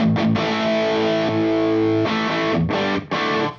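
An electric guitar played through a Tyrannosaur Mega Driver overdrive pedal, set with all knobs at noon: several gritty, sustained chords, loud and up front, each ringing briefly before the next, with no talking.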